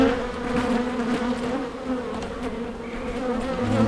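Honeybees in Hive 2 hum continuously and close during an inspection of a brood box with frames nearly full, a steady buzzing drone that swells slightly toward the end.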